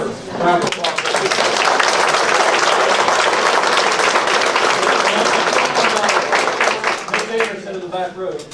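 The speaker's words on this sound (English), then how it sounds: "Let's give another round of applause." Luncheon audience claps in a sustained round of applause, steady and fairly loud across the room, with voices mixed in and a few people speaking as it tapers off.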